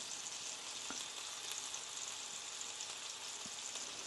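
Meatballs searing in oil in a pan for spaghetti and meatballs, giving a faint, steady hissing sizzle with a couple of soft clicks, heard alone at low volume.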